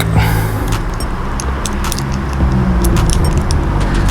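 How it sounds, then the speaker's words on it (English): Small metal parts rattle and jingle close up as a nut is adjusted by hand on an Arrma Granite 3S BLX RC car's motor mount, faint clicks over a steady low hum. "I'm just adjusting the nut because I need to put it back"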